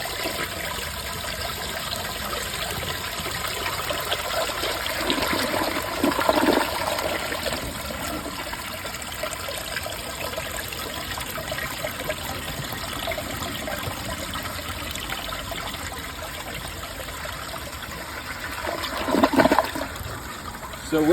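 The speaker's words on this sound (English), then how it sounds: "This is honestly my favorite view when I film my toilets flushing" A 2004 Briggs Altima toilet flushes with a loud, steady rush of water from its big jets, swelling in two stronger gushes over a constant close-up stream and trickle.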